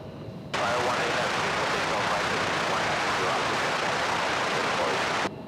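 A Boeing 757 airliner arriving at DFW Airport from Houston, heard as a loud, broad rushing roar that starts abruptly, holds steady for about five seconds and then cuts off.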